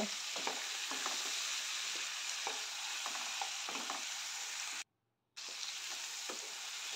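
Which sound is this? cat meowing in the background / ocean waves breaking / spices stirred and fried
spices stirred and fried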